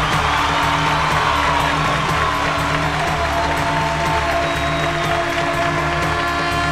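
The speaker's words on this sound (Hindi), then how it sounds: "जोरदार ताली से स्वागत करेंगे धर्मेश को" A studio audience at a Bhojpuri singing contest gives loud, sustained applause and cheering to welcome a contestant, a dense wash of clapping with whoops, continuous throughout.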